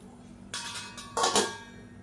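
A metal lid set down on a cooking pan after stirring, giving a couple of brief clattering clinks close by with no talking.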